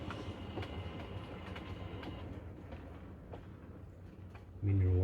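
Bachmann Small Prairie model locomotive hauling empty freight wagons, mineral and coal wagons, on a model railway, a steady low running rumble with faint clicks throughout, growing louder near the end as it comes closer.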